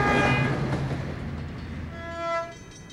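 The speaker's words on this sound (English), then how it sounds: "A two-car inbound Northwestern commuter Streamliner heads for Madison Street." A two-car, bi-level inbound Northwestern commuter Streamliner train in Chicago heads toward Madison Street with a steady, close rumble of wheels and cars. Tonal whining lines rise near the end.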